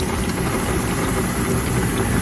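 A 2.2 kW, 380-volt electric motor drives a 9-metre flexible grain auger conveyor loading soybeans, giving a steady, continuous mechanical hum and whir at close range with no pauses.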